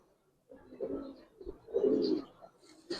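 A female Giribaz pigeon coos close by in two or three soft, throaty rolling bursts, with a short chirp near the end.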